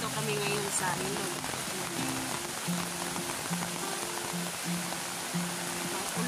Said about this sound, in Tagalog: Ulan ang panahon.